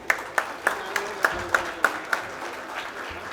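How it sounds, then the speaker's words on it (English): At the Advantage Vidarbha event in Nagpur, a round of audience applause rises with a few distinct, rhythmic claps standing out near the front, steady and moderately loud for a few seconds. "A huge round of applause."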